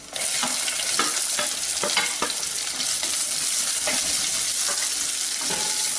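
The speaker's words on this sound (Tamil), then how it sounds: "வெங்காயம் நல்லா வதங்கட்டும்." Onions fry in oil with cumin and chili in a pan for a Tamil drumstick-leaf kootu, a constant loud sizzle broken by scraping stir strokes, with no talking.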